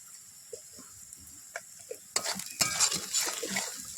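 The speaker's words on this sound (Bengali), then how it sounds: "এবার ভালো করে মশলাটা কষিয়ে নেব।" Spice masala frying in mustard oil in a pan is stirred with a spatula, a few quiet clinks at first, then louder sizzling and scraping strokes for the rest, close up.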